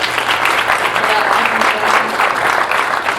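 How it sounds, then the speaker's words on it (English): A crowd applauds steadily after a film screening at a Razorback panel event, dense, loud, even clapping that holds for the whole stretch with a faint murmur of voices mixed in. "can we just give one more round of applause for that"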